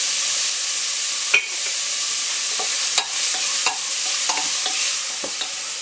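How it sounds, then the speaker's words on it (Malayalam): Curry leaves sauté in a pan of soya chunk curry, a steady bright sizzle of frying with a few sharp clinks and scrapes of a stirring spoon against the pan. "ഒരു 2 തണ്ട് കറിവേപ്പില ഇട്ടിട്ടുണ്ട്. ഇത് നമുക്ക് നന്നായിട്ടൊന്ന് മൂപ്പിച്ചെടുക്കണം."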